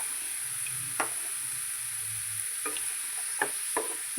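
A spoon stirs radish and green gram thoran in a pan, giving a few soft scraping strokes and light taps over a steady low sizzle, close and unhurried.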